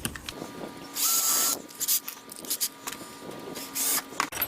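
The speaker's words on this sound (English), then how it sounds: "so now I can drill another hole" An electric drill whirs in short bursts, drilling a hole while building a skylight, starting and stopping several times at close range, with scraping and handling noise between runs.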